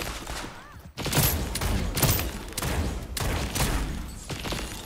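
Gunfire in a video game: repeated loud bursts of rapid shots in quick clusters, dense and close, running through the whole stretch with brief gaps between volleys.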